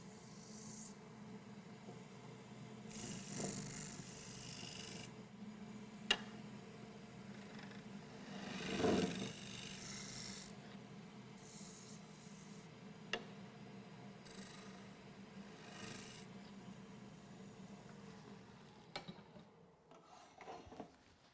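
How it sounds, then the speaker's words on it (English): A heavy scraper cuts steadily against a wooden bowl turning on a lathe. The rasp continues with occasional sharp ticks and clicks. "Then I transfer to a heavy scraper."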